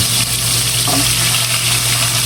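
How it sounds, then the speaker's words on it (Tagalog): Carrots fry in a pan of hot oil, giving a steady, close hiss and sizzle with a faint low hum underneath and no voices. "Bali carrots naman po ang ipiprito ko."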